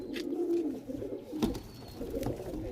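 Pigeons in a loft of high-flying Andhra and Malboy birds coo in low soft rumbles, with faint rustling and a few sharp bumps close by.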